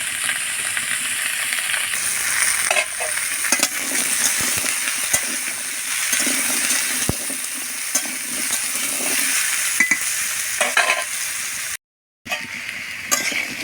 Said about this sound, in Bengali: নুন না দিয়ে ভেজে নেব।